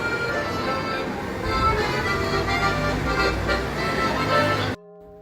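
Busy street in Paris with a steady wash of traffic and city noise, engines and general bustle close and loud, continuous for most of the stretch before cutting to near silence at the end.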